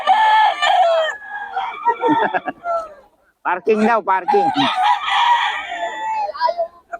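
Chickens and roosters cluck and crow for sale at a market stall, with someone talking loudly over the birds throughout.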